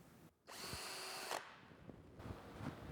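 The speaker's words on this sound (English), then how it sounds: "I use the louver jig to drill control arm holes in the edge of my louvers" A power drill bores control arm holes into the edge of a wooden shutter louver held in a jig, a loud close high whine for about a second that stops abruptly, followed by softer clatter and handling noises.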